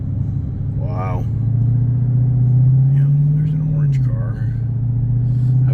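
A Dodge Challenger Redeye Wide Body driven in sport mode gives a steady, loud low engine rumble that swells slightly mid-drive, with a voice speaking briefly over it.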